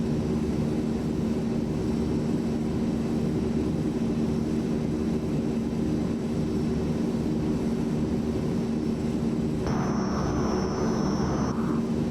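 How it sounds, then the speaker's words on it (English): Twin turboprop engines of a Transall C-160 military transport in a flight video game drone steadily, loud and constant, with a brief higher tonal whine near the end as the engines throttle back. "Slow our engines down a little bit."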